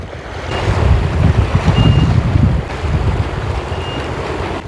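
A boat approaches on a river with broad rushing water and wind noise, a steady loud wash with no voices.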